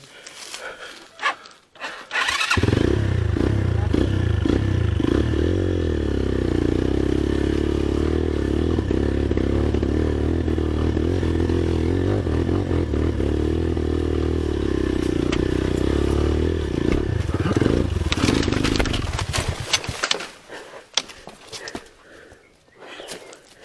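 A motorcycle engine idles steadily and loudly for most of the clip, a low throbbing drone that starts abruptly and cuts off near the end amid scattered clatter.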